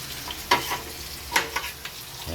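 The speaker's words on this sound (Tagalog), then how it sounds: "igigisa natin ang sibuyas, bawang, kamatis" Onion, garlic and tomato sauté in a pan for Filipino pakbet, with a low frying hiss broken by a few quick scraping stirs, close by and with no talking.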